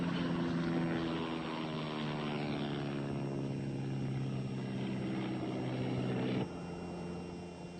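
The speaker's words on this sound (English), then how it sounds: "you go through this every time Steve gives her a flying lesson" Small propeller airplane on a flying lesson, a steady loud engine drone with strong low harmonic hum and airy wash throughout, shifting abruptly near the end as the tone drops.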